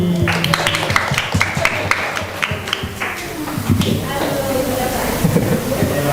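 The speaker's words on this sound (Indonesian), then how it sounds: "Tepuk tangan buat Sofi" Students at a high school cultural and language week clap together in a room, loud and steady, with voices talking over the applause.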